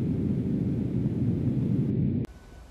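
Starlight from the star Capella, flickering from atmospheric turbulence and turned into sound by an optical receiver, gives a steady rushing hiss like dense static that cuts off abruptly near the end, with faint quiet after.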